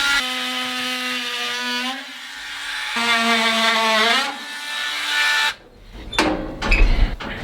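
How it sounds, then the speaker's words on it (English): A Dremel rotary tool whines loudly as it cleans out a timber-frame joint for a hunting cabin, several sustained high-pitched bursts whose pitch rises and falls under load, then a few sharp knocks and scraping thuds close by. "Okay, now what I need to do is take this Dremel tool. I'll clean out as low as possible."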